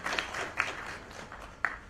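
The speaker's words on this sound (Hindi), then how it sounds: "ताली बजाओ." An audience at a film trailer launch at a PVR cinema claps in scattered bursts, a thin patter of applause with a couple of sharper individual claps.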